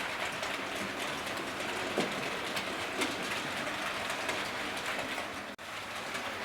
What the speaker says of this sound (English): It is a fantastic engine, and it's pulling 10 carriages, and there's a slight slope here